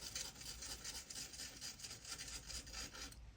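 A blade's cutting edge being sharpened with rhythmic, close rasping strokes, a fast even back-and-forth scrape that stops abruptly at the end.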